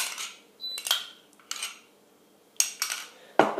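Thick crème fraîche being beaten in a bowl, heard as a few scattered scrapes and clinks of a utensil against the bowl with quiet gaps between them, close and fairly soft.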